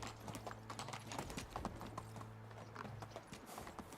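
Horse hooves clip-clopping in Medieval Dynasty, a steady close trot of repeated rhythmic hoof strikes over a low droning hum, with no talking.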